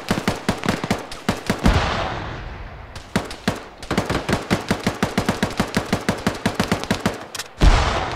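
Rapid rifle and machine-gun fire in the military shooter ArmA 3, loud sharp bursts of shots in quick rhythmic strings, broken by a short pause and a heavier blast near the end.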